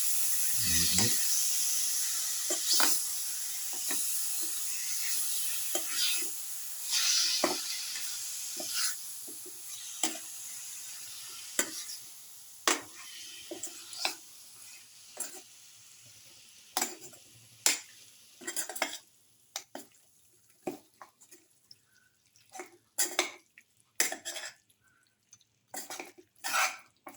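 Salted lamb pieces being mixed in a pan for a garlic cumin casserole, giving soft scraping and stirring clicks with a faint sizzle, growing into sharper, irregular taps of utensil against pan toward the end.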